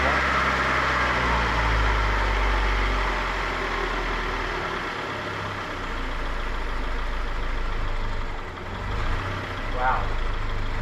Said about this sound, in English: let the car warm up until the thermostat opens up